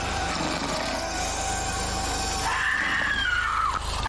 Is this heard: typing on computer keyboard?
no